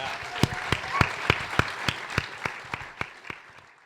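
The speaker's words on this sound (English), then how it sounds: "Give them a round of applause, please." Audience in Chicago clapping for members of the Minimalist team, with a few sharp, evenly spaced claps standing out close by over a softer bed of applause that fades toward the end.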